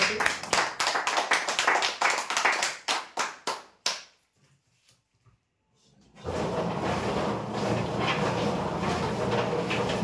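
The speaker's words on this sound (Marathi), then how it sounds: "जोरदार टाळ्या होत्या." Loud applause breaks out at a prize draw, a burst of rhythmic clapping that fades to near silence, then a broad roar of noise returns and holds steady.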